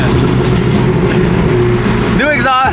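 Steady deep drone of a BMW F80 M3 with a new exhaust and tune, idling or cruising from inside the car, with a brief rising whine near the end.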